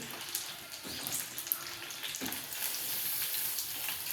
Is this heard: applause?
no